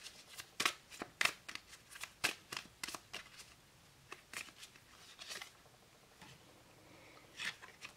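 Lenormand fortune-telling cards are shuffled close by in quick, irregular riffling snaps and flicks, crisp and fairly quiet, with no talking.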